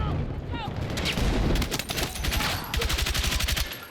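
Battlefield 6 gunfire erupts in rapid automatic bursts, dense rattling volleys near and loud, with a brief pause before another fast stream of shots, mixed with in-game battle noise.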